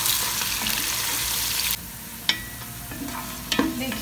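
Thinly sliced onions go into hot oil and fry with a steady sizzle, then quieter stirring and a few utensil scrapes and clinks against the pan. No one speaks.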